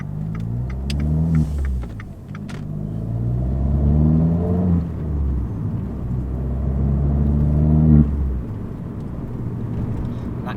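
A car engine with an MS Racing exhaust revs up hard through several climbing pulls, its exhaust roaring loud and close, easing off between bursts before surging again.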